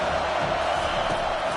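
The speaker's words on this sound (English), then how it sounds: "Decibels rising as the crowd gets behind this defense on third down" A stadium crowd at a college football game roars for the defense on third down, a dense, steady wall of cheering and shouting that holds at full volume throughout.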